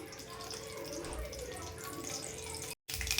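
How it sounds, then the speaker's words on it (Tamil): Dense crackling and sizzling of mustard seeds and chana dal popping in hot oil, steady and close, with a brief silent gap near the end. "நல்ல கடுகு வெடிச்சிருச்சு"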